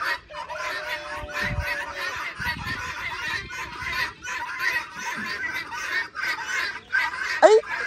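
Chickens on a farm cluck and squawk close by through the whole stretch, with a sharp honking call near the end and people chatting over the birds.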